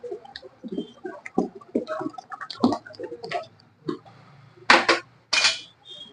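A utensil scrapes and clinks against a metal pot in irregular strokes while stirring rice, with a few louder scraping passes toward the end.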